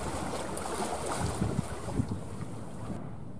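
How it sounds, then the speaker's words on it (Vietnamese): A slim sea-diving fishing boat speeds toward the harbor of Phu Quy island, its engine a steady rumble mixed with strong wind buffeting and splashing water, with no voices. "Chiếc ghe lặn vẫn đang tiếp tục tăng tốc tiến về bến cảng đảo Phú Quý."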